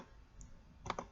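Two quick, crisp computer mouse clicks in close succession, faint and near, over a quiet room background.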